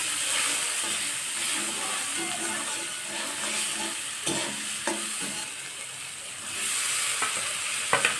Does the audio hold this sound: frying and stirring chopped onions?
yes